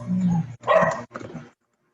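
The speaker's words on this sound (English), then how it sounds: "Well, there is an angry dog somewhere there." An angry dog barks in a few sharp, loud bursts nearby, three quick outbursts over about a second and a half before silence, with no speech over them.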